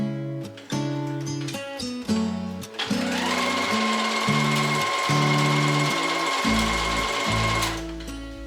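A sewing machine stitches a waistband onto a pair of pants, running in fast, loud bursts with short pauses, then settling into a long steady whir before stopping.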